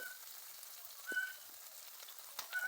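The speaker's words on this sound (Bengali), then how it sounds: "শুকটি মাছগুলো ভালোভাবে ভেজে নিব" Soft, steady sizzling of dried fish frying in oil with turmeric, with a few faint clinks and scrapes over the hiss.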